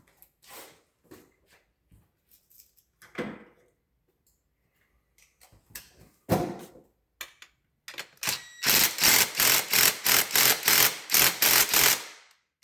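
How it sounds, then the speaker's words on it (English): Work on the intake piping of a Duramax LBZ engine: scattered metallic clicks and knocks, then a quick run of rapid, loud ratchet-like clicks near the end. "now we got that intake pipe all tightened up"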